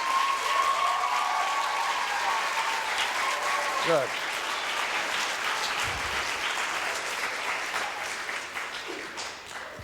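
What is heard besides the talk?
audience applause for the teachers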